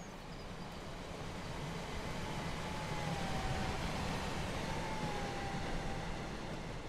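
A train rolls past in the Train Sim World 5 simulator, a steady broadband rumble with low rail noise and faint tonal whines, no talking.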